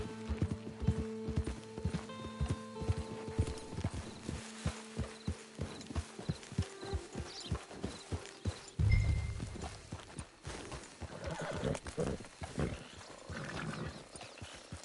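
Horse hooves clip-clop steadily in the Western game Red Dead Redemption 2, a rapid, even trot close by over a low ambient bed, slowing and giving way to a louder whoosh and softer scattered steps later on.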